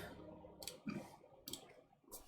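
Key clicks on a custom Lin Whale VKG mechanical keyboard with SP Star Marble Soda keycaps on a half-POM build come as a few sharp, crisp taps spaced apart with quiet gaps between them.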